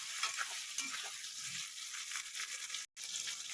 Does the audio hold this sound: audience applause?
no